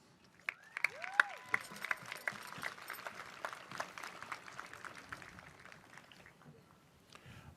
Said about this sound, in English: As I read each graduate's name, please do not hold your applause.